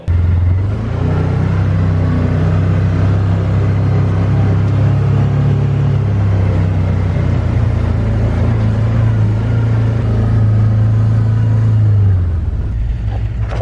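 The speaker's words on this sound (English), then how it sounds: "I think the Can-Am is gonna be a much better bet for getting up that hill." A Can-Am off-road vehicle climbs a hill with a loud, close, continuous engine rumble that holds steady for about twelve seconds and then eases off, with no speech.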